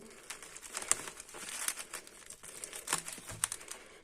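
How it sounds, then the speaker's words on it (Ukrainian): Packaging from an AliExpress parcel crinkles and rustles in close, uneven bursts with sharp crackling peaks, handled alone without talk. "починаємо розпакування, щоб не пошкодити нічого"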